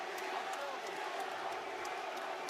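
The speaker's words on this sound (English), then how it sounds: "And you can hear the crowd" Boxing crowd roaring steadily inside Madison Square Garden during a Taylor versus Lopez bout, a dense continuous wash of cheering voices with no pauses, loud and enveloping throughout.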